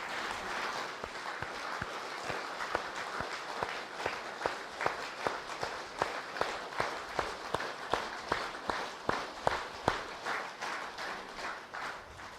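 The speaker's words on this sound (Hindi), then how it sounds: "पीछे वाले तो एक बार और ताली अच्छी तरह से बजाओ" Steady rhythmic clapping from an audience at a spiritual talk fills the room, a run of sharp, evenly spaced claps at moderate loudness with no talk over them.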